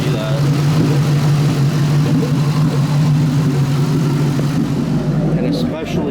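A Ford Mustang engine idles loudly and unevenly, shaking, with a low steady drone and occasional rough clicks from the exhaust; a voice is faintly present.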